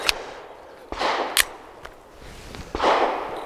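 Several sharp gunshots from a Walther WMP rimfire pistol loaded with CCI Maxi Mag 40 grain ammunition, spaced irregularly over a few seconds, each crack loud and close with a short outdoor tail.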